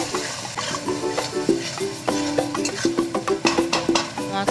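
A spice paste of Kashmiri chilli powder, cumin powder and a little water sautés in a pan with a light sizzle, while a spoon scrapes and taps the pan in quick repeated strokes close by.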